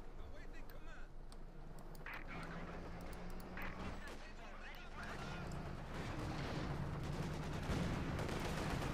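Gunfire crackles and booms in a Company of Heroes 2 battle as a Soviet T-34 tank advances on German grenadiers, with repeated sharp shots over a dense, continuous battle din and a voice commentating throughout.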